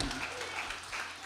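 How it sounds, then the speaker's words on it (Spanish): Church congregation applauding, a short dense wash of clapping from many people, steady and moderately distant, with a voice faintly mixed in. "Dale un aplauso a Cristo Jesús"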